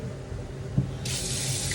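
Water starts pouring into a cooking pot midway, added after vinegar has simmered in, a steady bright splashing stream over a low background hum.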